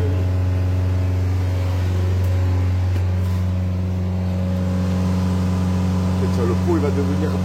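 A car with a 2-litre HDI diesel engine accelerates nearby with a loud, steady droning hum whose pitch shifts slightly partway through, continuing throughout without a break.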